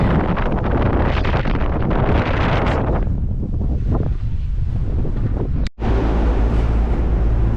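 Steady, loud wind buffeting a microphone, a broad roaring rush with a brief dropout near the end.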